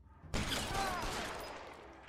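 A shotgun blast in L.A. Noire, one sharp, loud report that cuts in suddenly and then decays slowly into a long, broad tail.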